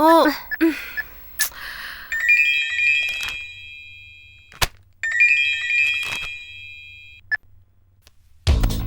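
A telephone rings in a Tamil TV drama scene, two electronic ringtone bursts separated by a pause, clear against a quiet room with a brief gasp and short voice sounds around them.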